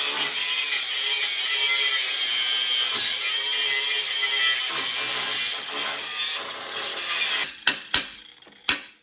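A power tool cuts through a rusted Toyota frame with a harsh, continuous high grinding rasp, close and loud, ending in several sharp metallic knocks as the cut finishes.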